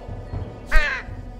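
A cartoon crow gives a single loud, harsh caw lasting about a third of a second, standing out clearly against a quiet background with no speech.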